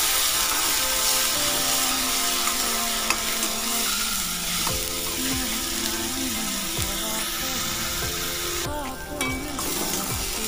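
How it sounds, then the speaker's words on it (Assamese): Onion paste fries in a pan in a continuous close sizzle, with repeated scraping strokes of a spatула-like stirring and a faint mechanical hum underneath. "এতিয়া পিঁয়াজৰ পেষ্টখিনি দিয়াৰ পাছত মই ভালকৈ এইখিনি ৰঙচুৱাকৈ ভাজি ল'ম।"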